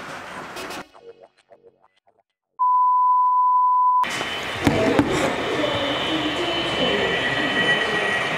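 An HO scale model train at a model railway club layout, with quiet clicks and a steady electronic beep before a louder rolling rumble and rattling of the small train takes over, with clattering bumps.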